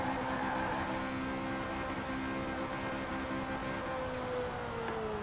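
Drift car engine in the Forza Horizon 4 racing video game, a steady droning engine tone with siren-like whine, continuous and fairly loud, a pitch slowly sliding near the end.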